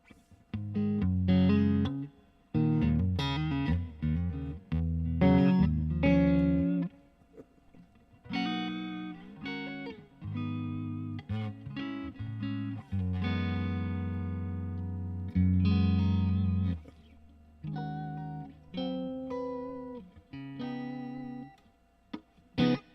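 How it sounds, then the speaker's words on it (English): An electric instrument played through heavy reverb and effects at a music trade show, sounding as bursts of sustained, washed-out notes and chords that ring and decay between phrases, with no talking. "Got a lot of reverb on that."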